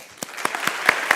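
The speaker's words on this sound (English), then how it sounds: "Let's hear that applause." Conference audience at an annual meeting clapping, a short burst of fairly sparse, distinct claps in a room, moderately loud with no talk.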